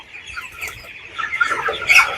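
Broiler chickens on a poultry farm, 21 days old, cluck close by, a few short clucks building into a louder, busier burst of clucking toward the end.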